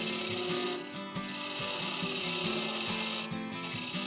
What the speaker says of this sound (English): So the lathe is floating around the 1000 RPM mark.